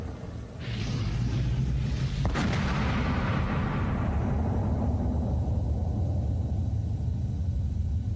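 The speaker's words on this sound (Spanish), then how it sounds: "Una explosión increíblemente atronadora" A single thunderous blast from a matchlock-style battlefield musket fires about two seconds in, a sharp crack that breaks into a long rolling, echoing rumble and decays over several seconds over steady background noise.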